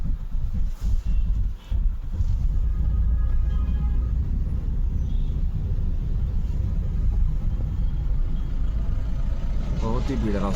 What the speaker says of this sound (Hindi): बहुत ही भीड़ रास्ता है।